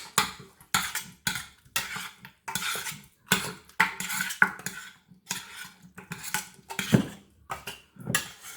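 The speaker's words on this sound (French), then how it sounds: "Je prends juste une belle petite cuillère comme ça. Je mets là-dedans. Voilà. Et là-dedans, je mélange." A small spoon stirs a mixture in a container while preparing a vegetable pot-au-feu, making quick, close metallic clinks and scrapes in a steady, irregular rhythm with no talk.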